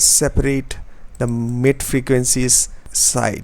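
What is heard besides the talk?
None of the usual background noises is heard.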